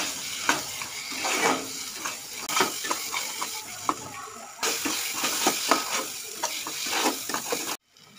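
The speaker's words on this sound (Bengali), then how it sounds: "এবার দিয়ে দিচ্ছি নুন, দিয়ে ভালো করে মশলাটাকে কষিয়ে নিচ্ছে।" Spice paste with chili powder and salt being stir-fried in a pan, continuous sizzling with repeated scraping strokes of a spatula, close and steady before cutting off abruptly at the end.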